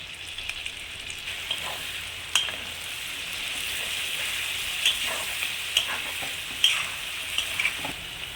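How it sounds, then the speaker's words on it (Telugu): Prawns with onion fry in a pan, a steady bright sizzle broken by occasional sharp scrapes and clicks of a spoon stirring, close and continuous with no talking. "రెండు రొయ్యల్ని బాగా కలిదిప్పుకుంటూ ఉండాలి అడుగంటకుండా ఇవి బాగా ఫ్రై అవ్వాలి"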